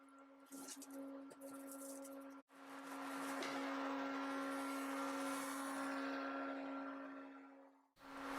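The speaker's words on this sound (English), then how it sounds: "The noise you hear in the background is the Thor filtration unit," A Thor air filtration unit in a woodworking workshop runs with a steady tonal hum and broadband rushing air, briefly interrupted and then cutting off near the end.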